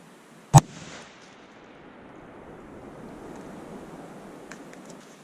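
A single gunshot is fired at 5 yards through duct tape into a ballistic dummy with a water bottle behind it, one sharp loud crack followed by an outdoor rumble and wind noise.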